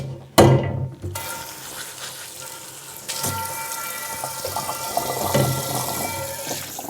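A cast iron pan is rinsed under a running kitchen tap, with a steady close stream of water splashing into the sink after a sharp knock at the start, continuing loud and even.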